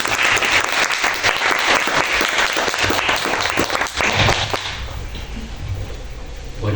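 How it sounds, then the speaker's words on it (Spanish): Loud, dense applause from a conference audience filling a lecture hall, sustained for several seconds before thinning out toward the end. "Un fuerte aplauso, por favor."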